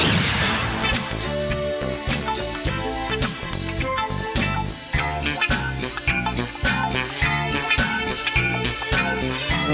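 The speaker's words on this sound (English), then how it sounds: "You may fire when ready." A Star Wars scene of weapons firing, with a dense run of loud, rapid blasts and booming impacts layered over dramatic orchestral music for nearly ten seconds.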